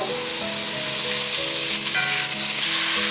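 Carrots and mushrooms stir-fried over high heat in hot oil with minced ginger and coriander stems, giving a steady, close, continuous sizzle with soft stirring and gentle music underneath.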